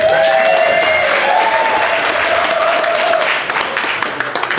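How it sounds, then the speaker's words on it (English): Audience applause opening an event production at a 2016 town hall meeting, a loud, dense wash of clapping that holds steady, then thins slightly toward the end. "Applause is appropriate at this point."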